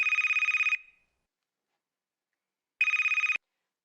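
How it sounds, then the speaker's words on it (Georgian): A telephone rings in two bursts, a long electronic trill cut off and then a second shorter trill after a pause of silence, loud and close with no talk. "დედა მამა რეკავს"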